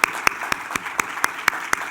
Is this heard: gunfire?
no